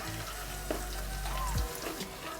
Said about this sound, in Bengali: এবার 1 চামচ রসুন কুচি দিয়ে দেবে। রসুনটা একটু ভেজে নেবেন।